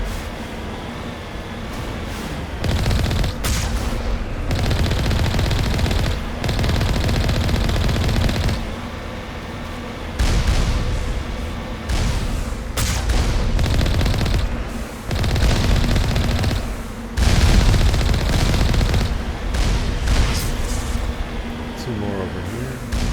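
Enemy gunfire in the Mass Effect 1 video game, sustained loud automatic weapon fire that rattles on in long bursts with short pauses in between, and a person talking over it.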